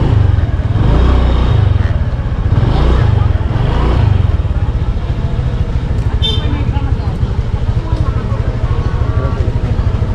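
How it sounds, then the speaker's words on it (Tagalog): A motorcycle engine idles and rumbles steadily nearby, with people talking over it and traffic noise around. "Isang motor dito."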